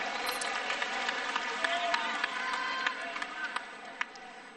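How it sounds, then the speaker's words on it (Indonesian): A large crowd at a political speech in Senayan, Jakarta, breaks into sustained applause: dense, steady clapping with scattered sharper claps, heard from a distance. "Boleh tepuk tangan buat semua yang hadir di sini."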